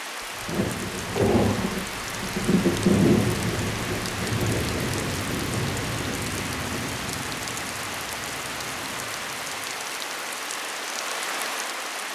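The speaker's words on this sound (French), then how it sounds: "Les orages sous l'équateur sont violents et magnifiques" A violent equatorial thunderstorm in French Guiana, with heavy rain pouring steadily and loud rumbles of thunder rolling early on before easing into a continuous downpour.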